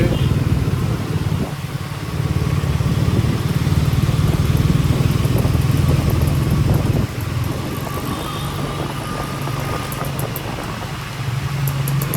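A motorcycle engine drones steadily nearby with a low, continuous hum, while a voice talks over it.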